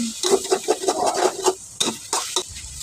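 Two eggs stirred in a pan for Thai dry suki, a rhythmic run of scraping, clattering strokes up close for about a second and a half, then a few sharper separate knocks against the pan.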